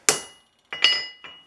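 A heavy hammer of about three pounds strikes a metal lateral adjustment lever on a hand plane three times, each blow a sharp ringing clang with a short metallic decay, spaced unevenly.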